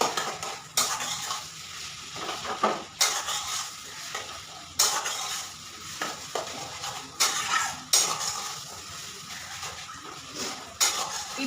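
Eggs fry and sizzle in a pan while a utensil stirs them, loud rhythmic scrapes and clanks against the metal every second or two over a steady hiss, no talking.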